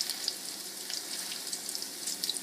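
A stuffed salmon cake sizzles and crackles steadily in a hot pan, with soft scraping as a spatula presses it down; close, fairly quiet, no talk.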